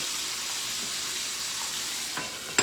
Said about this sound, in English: That's a little crispy golden. Put it back in the skillet.